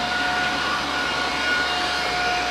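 A NaceCare 244NX cordless floor scrubber vacuum runs with a steady, loud motor whine and airy rush throughout, its brushes turning, with a constant tone and no talking.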